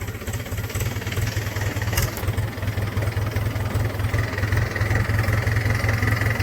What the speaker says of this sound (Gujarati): આ છે મારું ટ્રેક્ટર.